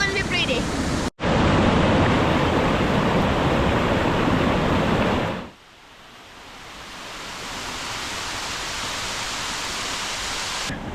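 Rushing rainforest waterfall, a loud steady roar of broadband noise that drops off sharply partway through and returns fainter and more distant, swelling slowly toward the end.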